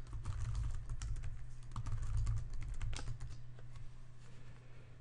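Rapid, close keystrokes on a computer keyboard as a passphrase is entered, clicking in quick irregular bursts over a steady low background hum.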